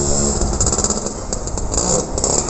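A small red three-wheeled vehicle, a tuk-tuk, passes on a street in Italy with a loud, rattling, strained engine clatter, close and continuous for the whole moment, with no talking over it.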